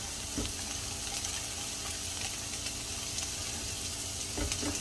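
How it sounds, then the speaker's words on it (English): Bell peppers and onions sautéing in a pan over medium-low heat, giving a continuous, close sizzle with occasional soft stirring clicks. "we're going to get all of our peppers sauteed up"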